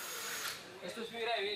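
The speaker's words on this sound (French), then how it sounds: "Grâce à la perceuse, on contrôle la matière derrière la paroi du conteneur." A power drill whines as it bores into the wall of a shipping container at a port, a steady rising motor tone over about a second and a half, with voices nearby.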